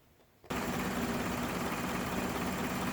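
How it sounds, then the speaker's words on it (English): A car engine with an EGR flow fault cranks and catches about half a second in, then settles into a steady, loud, close idle that holds unchanged to the end. "we're gonna start the engine again"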